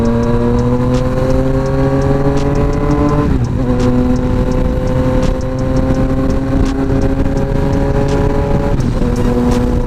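A Yamaha Tracer 900 motorcycle cruises along an expressway, its engine droning steadily close up with wind rush, pitch dipping and rising as it shifts gears.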